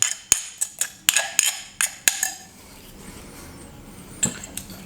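Green curry paste being worked in a Thai mortar: a quick run of sharp clinks and knocks, then a softer, steady scraping texture with one more knock near the end, close and fairly quiet.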